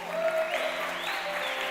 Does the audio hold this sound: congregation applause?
yes